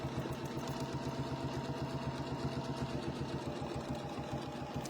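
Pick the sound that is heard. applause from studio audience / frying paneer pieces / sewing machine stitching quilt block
sewing machine stitching quilt block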